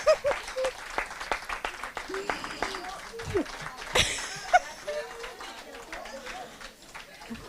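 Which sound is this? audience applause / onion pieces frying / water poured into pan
audience applause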